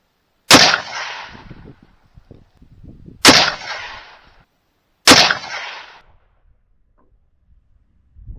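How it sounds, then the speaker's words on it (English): Three loud rifle gunshots from a rifle fitted with a muzzle brake, fired at a target a few seconds apart, each a sharp close crack followed by a rolling echo that fades out. "We're gonna start shooting."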